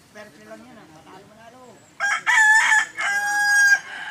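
Roosters on a farm with about forty to fifty birds crow loudly in two long, close calls, following softer clucking and faint background voices.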